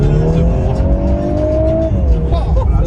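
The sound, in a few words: VW Golf 8R with Akrapovič exhaust accelerating, turbo spooling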